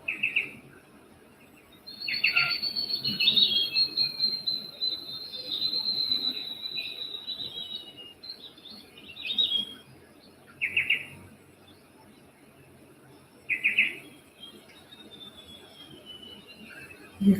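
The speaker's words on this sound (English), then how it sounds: "You can hear the birds," Birds call in a quiet forest canopy with insects around: a long high whistling song runs for several seconds, followed by a few short separate chirps spaced apart, soft and somewhat distant over a low hush.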